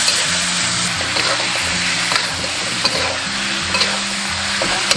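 Pig trotters being stir-fried with sauce in a hot wok, a continuous dense sizzle with scraping stirring strokes throughout, close and loud, no talk.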